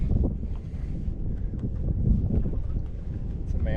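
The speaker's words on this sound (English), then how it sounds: "We got quite a few boats around." Boats on the Potomac River, heard as a steady low rumble and wash of wind and water close to the microphone, with no talk over it.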